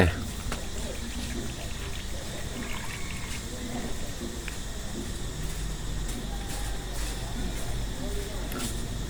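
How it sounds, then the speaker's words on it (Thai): Yanang leaf juice is poured into a bowl outdoors for a bamboo-leaf curry, a steady trickling splash running continuously under faint background noise. "เทน้ำใบยะนางลงไป"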